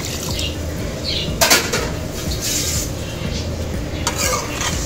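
A mug of water, swirled through a pan to rinse out leftover chili powder, poured into a simmering chicken gravy pot, giving a steady close splashing hiss with a few brief clinks of metal utensils.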